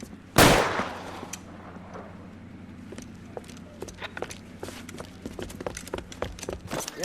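Gunfire from a shootout around a tin shack in the L.A. Noire video game: one loud, close shot opens, followed by a scattered run of sharp shots at irregular intervals over a steady low background hum.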